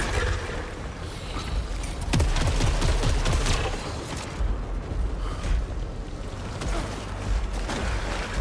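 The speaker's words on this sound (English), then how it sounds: "I'll try the pistol." Pistol gunfire in the game Saros, with a burst of rapid sharp shots mixed with mechanical clanks and creaks, followed by quieter scattered bangs over a busy, rumbling background.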